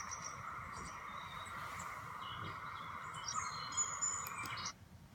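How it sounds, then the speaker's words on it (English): A bird sings continuously in a high, bright warble with chirps over faint background hum, then falls suddenly silent near the end. "The bird stopped."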